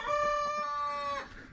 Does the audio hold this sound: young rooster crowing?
yes